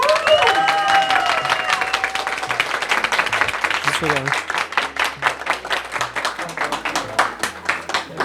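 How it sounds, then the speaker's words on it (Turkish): An indoor audience at an office award ceremony bursts into loud, sustained applause to welcome the award presenters, with a brief voice at the start and dense clapping that thins toward the end. "Ödülleri vermesi için İbrahim Bey ve Tuğba Hanım'ı alkışlarınıza buraya davet ediyorum"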